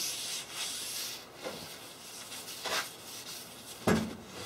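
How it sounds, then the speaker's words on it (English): Sanding rust off the cast top of a table saw, soft rubbing strokes in bursts with short pauses, moderately close and fairly quiet. "you could have spent a lot of time just keep sanding this down until all that rust is gone"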